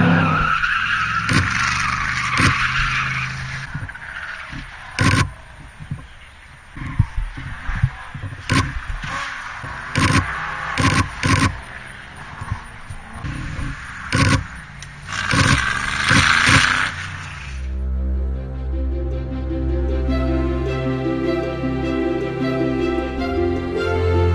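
Engines roar and whine as cars pass on a track, with sharp loud bursts and tire noise, then music takes over near the end.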